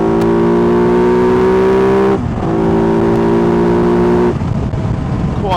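A Kove 450 rally motorcycle engine revs loud and close with strong induction noise, holding two sustained high revs that each end in a sharp drop before it settles toward idle.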